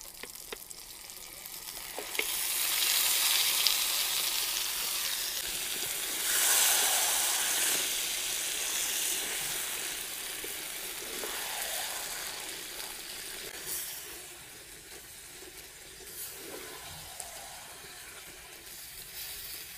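Mutton masala sizzles and hisses steadily in a clay cooking pot as water is poured in, a broad bright frying hiss that swells and eases over about twenty seconds with occasional stirring scrapes, no voices.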